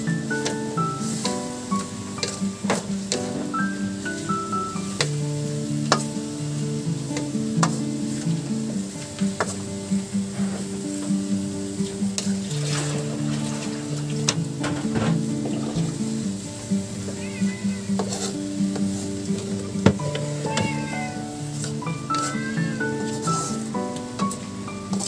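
Bean sprouts stir-fry in a pan with a soft, continuous sizzle and occasional stirring, heard under prominent background music.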